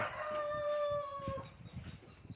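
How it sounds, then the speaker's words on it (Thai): Out in the countryside a rooster lets out one clear, drawn-out crow that fades after about a second and a half, followed by faint low rustling and background noise. "ไก่ก็ขันนะครับ"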